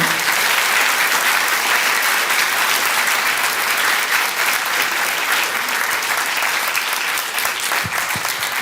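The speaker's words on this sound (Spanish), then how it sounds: "yo creo que los doctores merecen un aplauso grande, muy grande." Loud, sustained applause from a large audience at a university conference on judicial reform in Mexico, honoring the doctors; dense steady clapping fills the whole stretch without a break.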